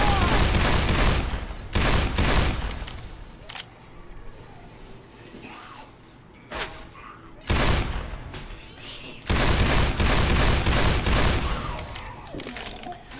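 Repeated bursts of gunfire from the video game Left 4 Dead 2 come in loud clustered volleys, with quieter gaps between them and a final sustained barrage.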